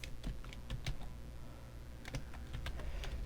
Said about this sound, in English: we're going to hit click new and then text, and we can type